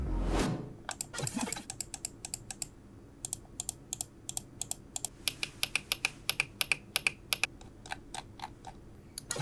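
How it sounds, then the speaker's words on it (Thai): Button clicks from computer mice used for 3D sculpting, ranging from cheap to expensive models, sound as a long series of crisp, close clicks in quick bursts and single taps, alone with no talk. "ทีนี้ก็ไปดูเสียงปุ่มคลิกกันบ้างนะครับ"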